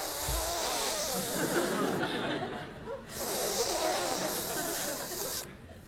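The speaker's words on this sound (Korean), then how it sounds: "이게 이제 그 방울뱀이거든요" A rattlesnake shakes its tail in a loud, continuous buzzing rattle that comes in long bursts separated by brief pauses, with faint chuckling mixed in.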